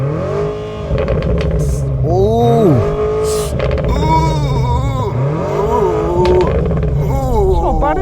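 A new BMW M5 plug-in hybrid engine revs several times, pitch sweeping up and dropping back, close and loud, with a person exclaiming over it.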